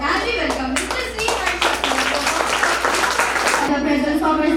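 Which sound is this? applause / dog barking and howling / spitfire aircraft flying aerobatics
applause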